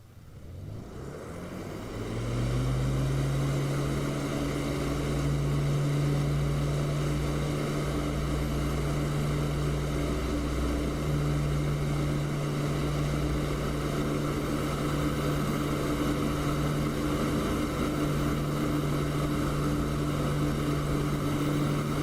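A de Havilland Mosquito's twin propeller engines in the DCS flight simulator rise from near quiet to a loud, steady drone within the first few seconds, then hold a constant humming roar with a strong low tone while the aircraft waits on the ground before takeoff.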